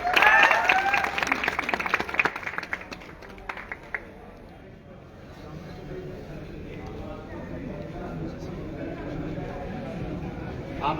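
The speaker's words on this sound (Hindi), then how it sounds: "जोरदार तालियां संजय जी के लिए" Loud clapping from an audience bursts out at the start and fades within a few seconds, then settles into a low murmur of room noise and voices.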